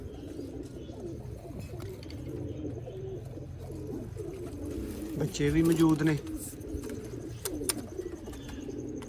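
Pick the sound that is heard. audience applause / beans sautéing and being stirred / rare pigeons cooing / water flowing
rare pigeons cooing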